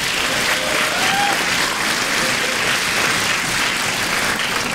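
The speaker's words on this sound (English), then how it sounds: "Yeah, round of applause." A school winter concert audience in a theater applauds with dense, even clapping that holds steady at a constant loud level from start to finish.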